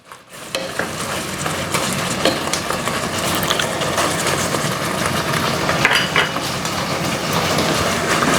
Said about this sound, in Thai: อ่าตรงนี้เร่งไฟนิดนึงเพราะว่าเดี๋ยวเราจะผัด